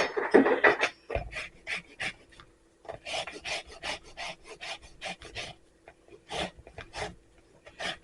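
Lemon zest being grated from a whole lemon for gluten- and dairy-free banana nut bread, heard as repeated short rasping strokes in an uneven rhythm, close and moderately loud, with brief pauses between bursts.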